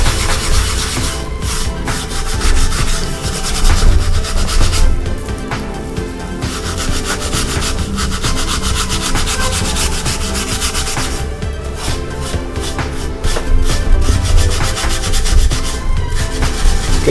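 Rusty baking pan scrubbed hard to lift off the rust, a loud continuous rasping scrape with rhythmic back-and-forth strokes running throughout, no talking.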